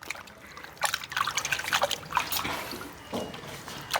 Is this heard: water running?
yes